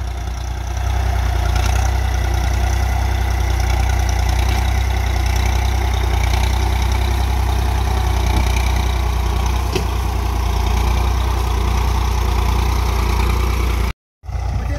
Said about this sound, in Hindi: यहाँ पर ये ट्रैक्टर चल रहा है भाई 939 FE स्वराज का